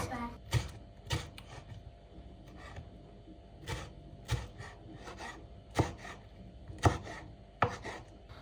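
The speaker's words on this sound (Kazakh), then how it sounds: "Оны ұзынша етіп турап аламыз." A knife chops through vegetables on a board in irregular sharp thuds, about a dozen cuts spread out, with soft background sounds between.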